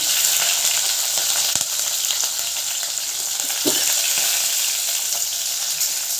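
Chopped onions and green chillies fry in hot oil in a pan for a vegetable curry, a steady close hiss and crackle running throughout with a couple of faint utensil knocks.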